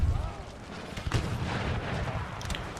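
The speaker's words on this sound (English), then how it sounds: "I don't think he can hit me now with his mortars" Mortar artillery fire on a battlefield in the strategy game Empire: Total War, a heavy boom at the start followed by further dull blasts and distant crackling gunfire, with a rumbling background of battle.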